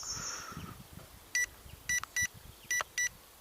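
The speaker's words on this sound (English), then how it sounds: "that beep is quite annoying really, isn't it?" Five short electronic beeps from an Eachine E60 mini quadcopter ring out in an irregular pattern, sharp and high-pitched, over quiet background noise.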